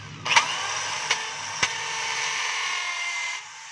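DeWalt D21710 half-inch hammer drill with a worn gear running in hammer mode, a steady whining buzz with a few sharp clicks, starting and stopping abruptly.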